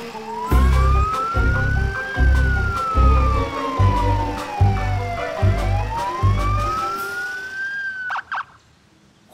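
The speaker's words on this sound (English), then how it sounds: "Morphle, police car, take you to jail!" A cartoon police car siren wails loudly in a rising and falling sweep over a steady, pulsing beat, then cuts off near the end with a few short clicks.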